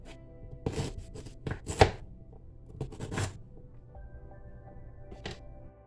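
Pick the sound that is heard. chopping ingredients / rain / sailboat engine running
chopping ingredients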